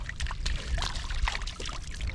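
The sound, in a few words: water splashing from a caught fish while kayak fishing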